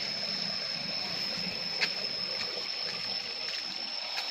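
Steady rushing of flowing water fills the scene, a constant broadband wash with no talk and only a faint click partway through.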